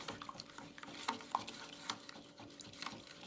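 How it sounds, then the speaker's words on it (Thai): Sugar and fine salt stirred together for a Thai dessert, faint scraping and light clinks of a utensil against the bowl or pot, irregular and quiet with no talk. "แล้วก็คนผสมทุกอย่างให้เข้ากัน คนเรื่อยๆนะคะจนน้ำตาลละลายหมด"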